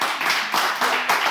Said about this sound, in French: Pourquoi vous applaudissez?